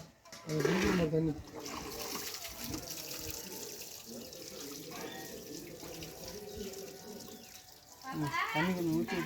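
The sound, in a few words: water being poured into tractor radiator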